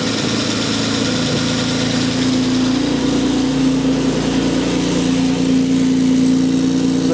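The 4.2-litre engine of a Jaguar XJ6 idles steadily under carburetor adjustment, a loud, even mechanical drone with a rising tonal hum as the throttle is nudged slightly higher.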